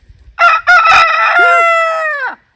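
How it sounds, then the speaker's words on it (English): A rooster crows loudly and close, a single long call with a few stuttered opening notes trailing off, alone with no other sounds. "Good timing, Mr. Rooster."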